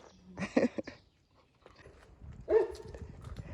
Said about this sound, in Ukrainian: Там алабай здоровенний. Чуєте, гавкає?